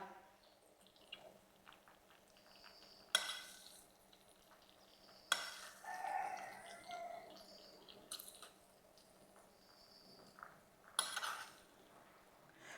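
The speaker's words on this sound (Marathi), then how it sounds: "आता आपण ढोकळ्याला वरतून अशी फोडणी देऊया" Hot oil tempering poured over dhokla gives a few brief crackling sizzles, scattered sharp bursts against a quiet kitchen background.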